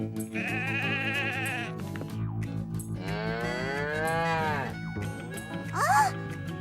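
A cow moos loudly and close by, two long drawn-out calls with a brief pause between them, followed by a short higher-pitched animal cry.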